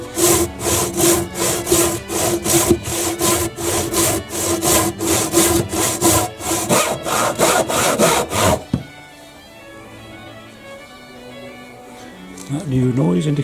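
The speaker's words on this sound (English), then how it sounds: "now we've got the exciting bit where we cut through into the little bit of decking below, and we should end up with a nice clean cut" A handsaw cuts through a softwood sleeper in loud, rhythmic back-and-forth strokes, close up, then stops abruptly as the cut breaks through, leaving quiet room tone and a faint sound at the end.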